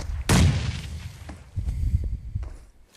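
Gunfire from the mobile battle royale game PUBG Mobile: one sharp, loud shot near the start, followed by scattered quieter thumps and distant pops.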